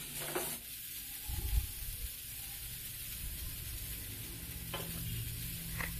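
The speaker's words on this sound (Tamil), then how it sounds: "போட்டு நல்லா ட்ரையாக வணக்கிக்கலாங்க" Chopped greens stirred dry in a hot pan for a Coimbatore-style lunch, a quiet soft hiss with rustling scrapes and a low thump or two as the spatula turns them, no speech.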